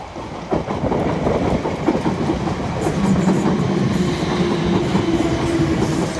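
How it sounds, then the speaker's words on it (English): A Class 455 electric multiple unit pulls into Clapham Junction on the South Western Main Line, a loud, continuous rolling rumble with rhythmic clickety-clack of wheels over rail joints and a steady tonal hum as it draws in close. "we have another one of those superb trains coming in"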